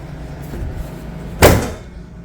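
A Dodge Stealth's fiberglass Viper-style hood on new struts swings shut with a single solid thump after a moment of faint rustling, its low boom fading quickly into garage quiet.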